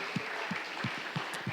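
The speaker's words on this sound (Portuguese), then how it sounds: "uma salva de palmas para Jesus." Congregation at a church service giving a round of applause, a moderate, continuous spread of clapping with a few rhythmic, evenly spaced lower thumps running through it.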